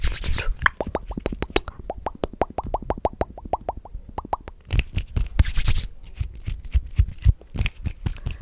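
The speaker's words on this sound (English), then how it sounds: "fast hand sounds and movements" Fast hand sounds and movements for ASMR: a rapid, close run of dry taps and plops, then quicker brushing and rustling bursts, with no talking.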